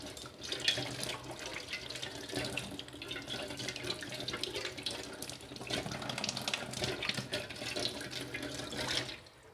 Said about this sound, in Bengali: সব এটাকে একটু জল দিয়ে ধুয়ে নিতে হবে